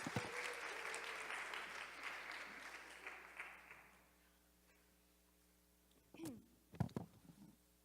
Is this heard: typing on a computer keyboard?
no